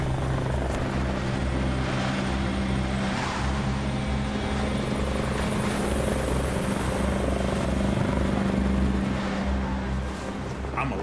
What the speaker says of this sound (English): you could hear this helicopter closer and closer as if it's just right over our head